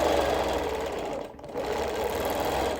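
A sewing machine runs steadily for free-motion quilting of a Quiltworks star with petals, feathers and curls, a loud, even hum broken by one short pause mid-stitch before resuming.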